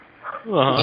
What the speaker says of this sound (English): you gotta excuse my dogs if they bark once in a while